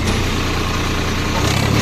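A Swaraj 855 tractor engine runs steadily while working with a plough in a farm field, giving a loud, continuous low rumble close by, with no clear talking over it.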